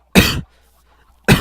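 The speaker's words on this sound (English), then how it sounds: "Just got a little cough or something." A man gives two short, close coughs, separated by about a second of quiet, while playing Minecraft.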